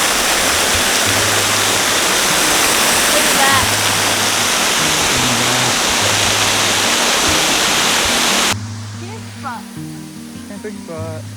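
Waterfall at Copperas Falls in Red River Gorge, a loud, close, steady roar of falling water for most of the stretch, then cutting to a quieter distant wash as voices talk.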